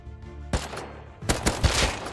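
Gunfire in the video game Rust, several sharp, close shots in quick bursts over a couple of seconds, one single crack followed by a rapid cluster.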